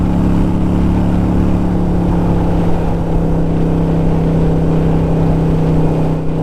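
Harley-Davidson Sportster cafe racer riding along Route 5, a loud, steady engine drone with a strong low hum and constant wind rush, unbroken for the whole stretch.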